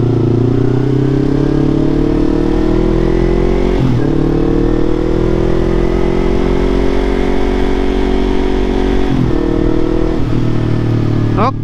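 A Yamaha MT25 250cc motorcycle engine hums loud and close while riding, with rising revs and two quick gear-shift dips before it climbs again.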